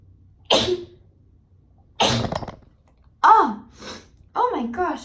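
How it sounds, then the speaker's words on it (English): A person sneezes sharply and loudly twice, then gasps and exhales in a series of breathy vocal bursts. "I'll let you know if I have to sneeze again."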